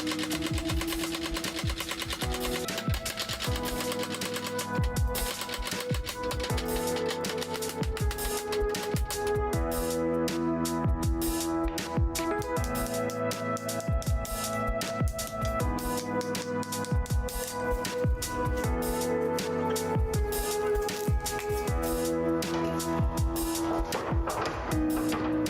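Steel is hammered during folding forging of a Japanese katana by a swordsmith, a rapid run of ringing metallic strikes repeating steadily and loud at close range throughout.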